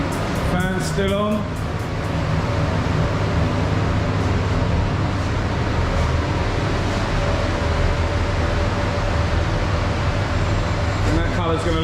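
Extraction fan running steadily in a spray booth during a Classic Mini 1275 respray, a loud constant whooshing drone filling the space, with a person talking over it.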